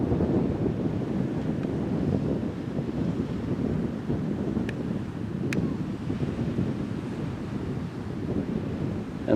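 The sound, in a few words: sea waves breaking on the shore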